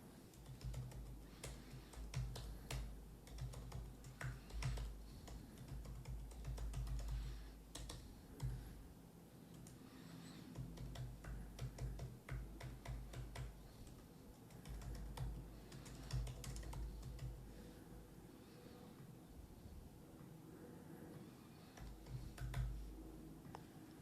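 Steady typing on a computer keyboard while filling in entry fields, a long run of soft, close key clicks in quick irregular bursts with brief pauses, quiet and without talk.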